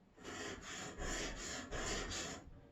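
A skew paring chisel ground freehand on a 300 grit sharpening stone, soft rhythmic rasping strokes, about four back-and-forth passes, close and fairly quiet.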